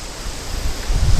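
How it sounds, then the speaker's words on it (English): Strong wind buffets a camera microphone on a windy fishing day, a steady roaring rumble that surges louder near the end, with no voices. "You can tell how windy."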